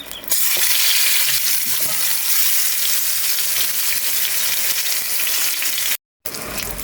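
Eggplant slices frying in a hot pan give a loud, steady sizzle that runs unbroken with a brief silent gap near the end.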